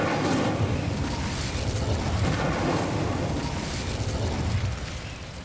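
Incendio fire spell cast in the Hogwarts Legacy video game, a loud sustained fiery whoosh and roar with rumbling bursts that hold for several seconds before easing slightly at the end.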